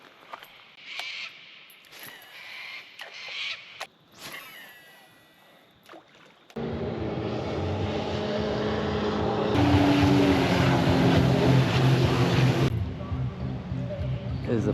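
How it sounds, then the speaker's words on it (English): A jet ski passes on a river in the Australian bush, its engine rising to a steady loud drone halfway through and holding for several seconds before dropping away, after quieter outdoor sounds with birds. "There's the party jet ski."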